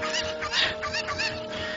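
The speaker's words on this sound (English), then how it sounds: "Okay, I hear another chicken nearby." Chicken clucking from the video game The Legend of Zelda: Ocarina of Time, a rapid run of loud, nasal fowl calls in quick bursts over a steady synthetic background tone.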